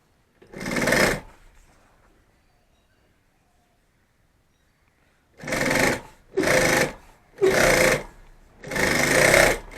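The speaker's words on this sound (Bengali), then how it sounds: "এইভাবে সেলাই করবে" Sewing machine stitching fabric for a handmade bag: one short burst of needle clatter, a pause of several seconds, then four close, loud runs of rapid mechanical stitching.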